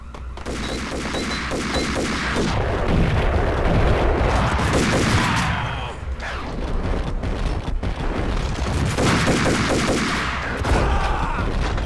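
Jackhammer automatic shotgun gunfire in the video game Max Payne: dense, continuous rapid blasts with booming explosions, loud and sustained, with a brief lull midway before the shooting resumes.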